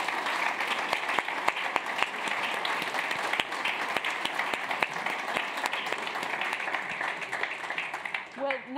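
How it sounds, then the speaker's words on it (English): Sustained audience applause closing an evening panel event on the war in Ukraine, many hands clapping steadily in a hall for several seconds before tapering off as a voice starts to speak. "now you will have to clap again"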